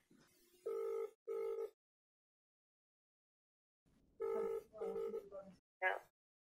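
A phone call rings out with two bursts of a buzzing double ring tone, then a pause. More tones and a short electronic chirp follow, sounding like the line rolling over to voicemail, close and clear with no talk over it.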